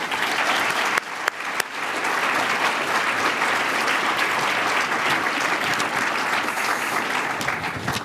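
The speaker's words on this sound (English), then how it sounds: "So please join me in a round of applause for Ellen Seligman and her memory." Sustained applause from a large seated audience at a literary talk in a salon venue, loud and continuous, with a few sharper individual claps standing out near the start.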